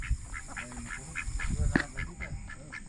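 Domestic ducks, a small flock of four kept on a farm, quack in short repeated calls over a steady outdoor background, with a louder nearby quack partway through.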